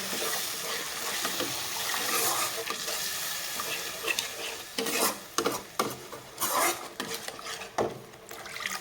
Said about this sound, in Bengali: সুন্দরভাবে একটু নাড়েচে দিয়ে পরে আমি দিয়ে দিব পরিমাণ মতো জল